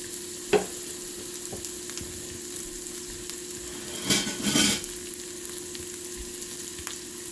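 Garlic, chili flakes and green chilies are stirred into a mashed radish bortha over a steady, close sizzle of frying, with a brief burst of scraping partway through and no talking.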